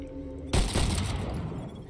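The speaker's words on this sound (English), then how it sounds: "Oh, it's a two-shot shotgun." A two-shot shotgun fired in the video game Void Train, one loud blast bursting in suddenly and followed by a dense, rumbling spray of gunfire noise that carries on to the end.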